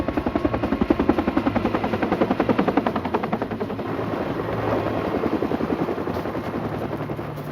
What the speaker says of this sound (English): The team was forced to land the helicopter in a clearing several miles away.